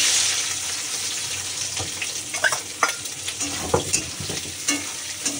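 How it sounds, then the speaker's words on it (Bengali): Diced onion and chopped green chili are frying in hot oil, with a close crackling sizzle and scattered scraping stirs from a spatula across the pan. "এবার এর মধ্যে দিয়ে দেবো আমি পেঁয়াজ"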